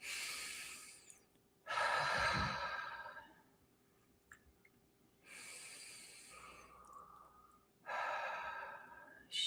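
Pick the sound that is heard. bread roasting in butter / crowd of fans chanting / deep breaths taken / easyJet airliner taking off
deep breaths taken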